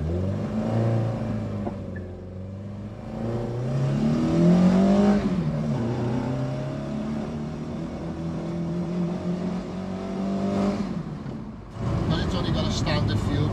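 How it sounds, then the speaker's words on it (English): A classic Ford Mk1 Escort drives along with a steady engine drone that rises and falls as it revs through the gears, heard from inside the car while people talk over it. "going to take us for a spin in his Mk1 Escort"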